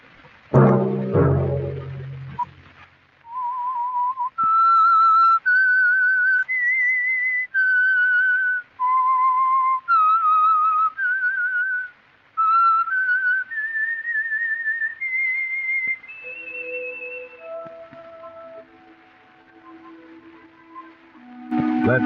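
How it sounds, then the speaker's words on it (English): A lone whistler performs the eerie theme melody of a 1952 radio mystery drama, clear sustained notes in a slow rising and falling tune, framed by brief orchestral stings at the start and close. "Let that whistle be your signal for the Whistler each Sunday night at the same time."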